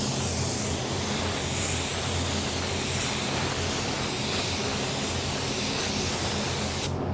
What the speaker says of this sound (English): we are ready to spray our first coat of our sealer.